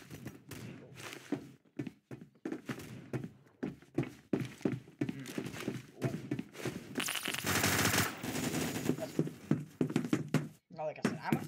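Rapid gunfire from a first-person shooter game rattles in fast bursts with brief gaps, loud and close, and a voice speaks intermittently over the shots.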